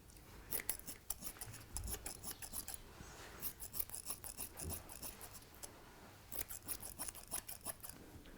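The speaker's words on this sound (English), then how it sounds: "thin some of the thickness on the shoulder, again with the thinning scissors" Thinning scissors snip steadily through an English Springer Spaniel's coat during show grooming, giving close, rapid bursts of crisp metallic cuts with short pauses between runs.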